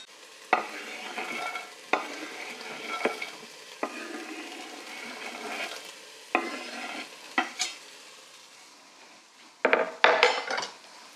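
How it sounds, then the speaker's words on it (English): A spoon stirs carrots in a pot with browned beef for a beef stew over a lowered flame, giving intermittent scraping clanks of utensil on cookware against a soft background sizzle. "And then just stir them around so they can start to cook."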